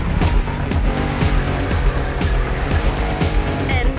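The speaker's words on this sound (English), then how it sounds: "a race between two cars that are just out of this world" Citroën GT and Renault Trésor racing in The Crew Motorfest, a loud continuous engine roar with rhythmic revving, gear shifts and a touch of tire squeal, close and dense throughout.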